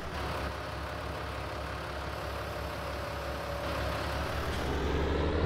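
A tractor engine rumbles steadily while working dirt and breaking up furrows in Farming Simulator 19, a low continuous drone that swells slightly toward the end, with no talking.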